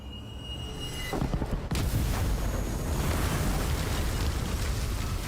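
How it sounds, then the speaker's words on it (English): An explosion in the video game Genshin Impact bursts suddenly and then rumbles into a sustained, dense roar of loud noise that fills the rest of the moment without any talk. "Was that an explosion just now?"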